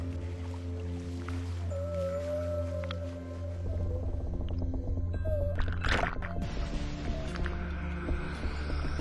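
Huge whale heard underwater, with a long hum and throbbing drone, low moans and rising calls, and a sudden surging rush of water near the middle.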